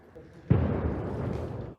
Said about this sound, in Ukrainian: Ще ще один буде вибух.